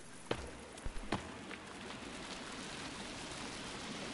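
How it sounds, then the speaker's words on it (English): Flowing water in a video game, a steady soft rushing wash that fills the whole clip, with a few brief knocks and thumps near the start, no talk. "I hear water."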